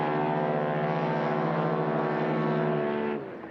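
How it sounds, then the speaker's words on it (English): A stock Highlander STOL aircraft with a roughly 400-horsepower engine turning a large four-bladed composite prop at about 9,000 RPM roars at full power in a drag race, a loud steady harmonic drone that drops off near the end. "Watch this aircraft come out of the hole shot. Listen to that."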